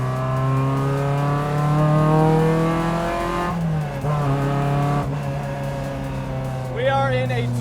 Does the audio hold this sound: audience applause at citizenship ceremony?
no